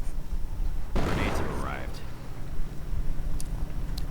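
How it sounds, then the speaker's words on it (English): Mortar rounds and gunfire in a real-time strategy game, a sudden blast followed by a whistling projectile and faint distant shots, all under continuous commentary speech. "Mortar rounds though flying in"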